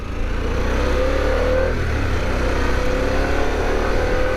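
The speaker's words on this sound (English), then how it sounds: "You kind of just hear the engine more, which is a pretty cool sounding engine" A 2021 Harley-Davidson Pan America 1250 motorcycle engine gives a steady, loud low rumble with a sustained drone throughout, close by and without any talk.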